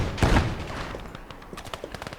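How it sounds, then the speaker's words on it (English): Distant machine gun fire in the game Gates of Hell during a large urban battle, a loud burst at the start followed by scattered fainter shots and rattles. "they're pretty much getting just pepper sprayed by a machine gun"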